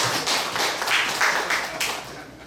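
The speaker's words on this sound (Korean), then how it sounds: "박수 한번 쳐드리시죠." An audience at a Buddhist lecture on the Zhaozhou records clapping, a short burst of scattered hand claps from a modest crowd, fairly close, fading after a couple of seconds.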